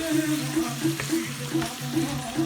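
Chicken simmering in a pan with salt for a chicken tortilla dish, a low, steady bubbling and gentle sizzle with faint pulsing, close and moderately loud, no talking.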